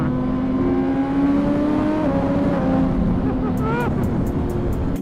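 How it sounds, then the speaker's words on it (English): A 2021 Suzuki GSX-R 600 motorcycle engine drones loudly and steadily, its pitch sliding down through rev-matched downshifts. A rapid series of sharp pops or clicks follows near the end, close to the microphone. "Then rev matching to go down to 6th,"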